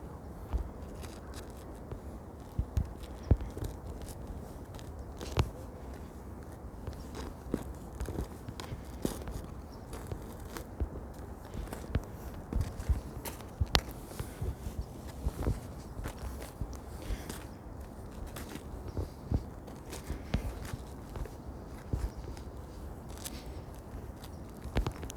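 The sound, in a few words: footsteps crunching on snow and ice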